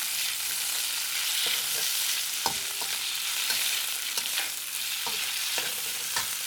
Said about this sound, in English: I'm using the same wok to put the onion in it. Stir a little bit.